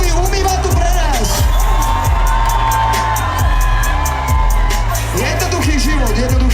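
Live crowd at a hip-hop concert in Prešov cheering and whooping loudly over pounding bass music, a dense continuous roar of many voices with no break.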